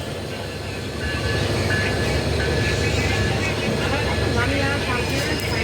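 Ekota Express intercity train standing at platform six of a busy station, giving a steady loud rumble and hum with indistinct voices mixed into the station noise.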